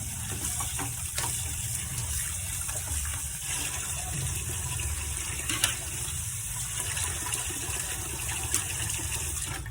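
Tap water gushes steadily into a sink as chopped chicken is rinsed, a continuous close splashing stream with faint clatter from the meat and bowl.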